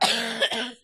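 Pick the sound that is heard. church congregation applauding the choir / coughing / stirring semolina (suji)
coughing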